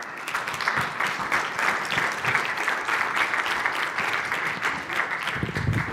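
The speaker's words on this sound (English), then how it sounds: "Round of applause for Rami Nassar" Audience applause greeting a keynote speaker at a presentation on AI, steady dense clapping from a large crowd filling the room for about six seconds without a break.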